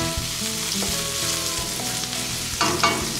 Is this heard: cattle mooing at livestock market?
no